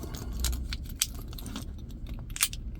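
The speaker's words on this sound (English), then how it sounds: "We're gonna go ahead and check out the keys here really quick. 2 keys, super nice." Two fold-out keys for a 2022 Ford F-250 XL Crew Cab jangle close by in a few quick metallic clinks and rattles, sharp bright taps scattered over a faint low hum, no speech.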